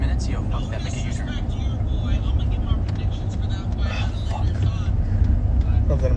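Steady low road rumble of a car being driven, continuous and fairly loud throughout, with people talking over it inside the vehicle.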